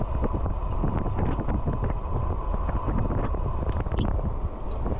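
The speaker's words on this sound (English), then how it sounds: "It's very windy actually" Heavy, continuous wind buffeting roars across the microphone while riding an electric bike at speed, loud and steady throughout, with no voices.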